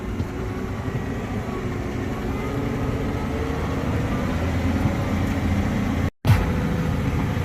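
Tractor engine with a subsoiler working across a field, a steady low rumbling drone throughout with a brief dropout near the end, no talking over it.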